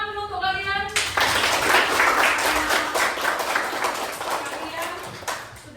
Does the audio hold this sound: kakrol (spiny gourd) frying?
no